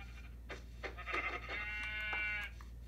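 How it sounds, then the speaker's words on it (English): Sheep bleating in Minecraft, a few wavering bleats in quick succession over a low steady hum, fairly quiet and close. "Get the sheep. I can always use their wool."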